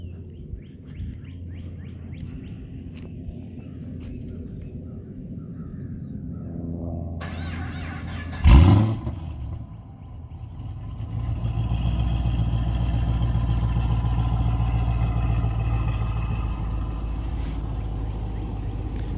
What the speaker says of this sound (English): Do a cold start.